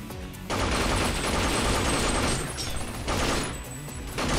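Sustained bursts of automatic gunfire from a gun in the shooter video game Binary Domain, loud and dense, with a short lull before the firing picks up again.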